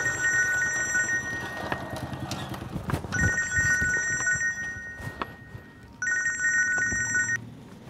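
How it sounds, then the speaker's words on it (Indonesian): A mobile phone rings in repeated electronic bursts with steady pauses between them, close and loud, over background rumble and clatter. "HP saya geter."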